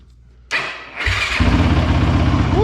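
A Yamaha YFZ 450 ATV engine cranks and catches after a short starter whir, then settles into a loud, steady, throbbing idle close by.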